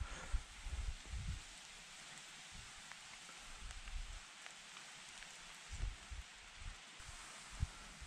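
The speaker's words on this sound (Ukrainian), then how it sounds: "Почався дощ, до речі." Rain falling outdoors on a lakeshore during autumn fishing for pike and perch, with wind and overcast weather: a steady soft hiss of drops with low rumbling gusts and a few louder patters, no talking.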